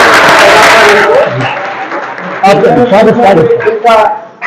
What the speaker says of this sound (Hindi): तो इनका भी जोरदार तालियों से स्वागत करेंगे